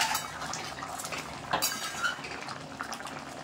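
A pot lid lifts off a pot of Bengali-style mutton and potato curry, with light metallic clinks and rattles over a soft bubbling simmer, close and fairly quiet.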